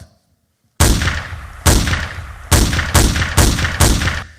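Six loud, close gunshots after a brief silence, the first few spaced apart and the last ones fired in a quicker, steady rhythm.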